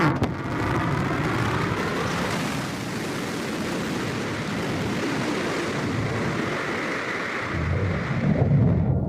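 A New Shepard rocket's BE-3 engine fires during landing, a loud, steady rumbling roar that fills the whole stretch, easing briefly near the end before swelling again.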